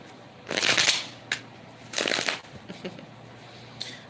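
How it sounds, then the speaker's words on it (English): Tarot cards are riffled and shuffled at close range in two main bursts of crisp fluttering, each followed by softer taps and a faint final riffle. "Two more shuffles."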